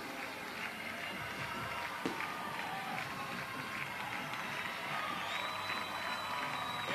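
A crowd at a 1994 high school football game between Jenks and Tulsa Union cheers and roars steadily from a distance, with fireworks going off in the background and faint talk mixed in.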